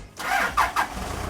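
Engine of a Pettibone 10056 telehandler with a transmission fault cranks briefly with a couple of pulsing surges, then catches into a running rumble, close and fairly loud.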